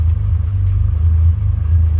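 A 1989 Toyota Supra MK3 with a 7MGTE engine idles low and steady, a loud, close, throbbing rumble with a slightly uneven pulse and no voices.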